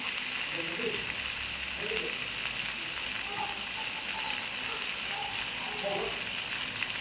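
Snake gourd and potato with green chillies fry in a pan for a fish curry, giving a steady, close, even sizzle that hisses continuously with faint stirring scrapes and no talk.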